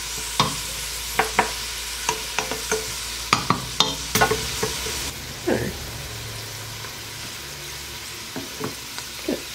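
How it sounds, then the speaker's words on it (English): Vegetables, onions among them, softening in flavored oil for Cajun/Creole rice and shrimp, a low sizzle under sharp clattering stirs of a utensil against the pan, busier at first and then settling. "we're just now gonna soften the veggies in that wonderful flavored oil"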